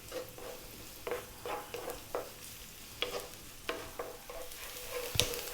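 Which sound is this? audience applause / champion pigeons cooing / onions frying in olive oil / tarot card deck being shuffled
onions frying in olive oil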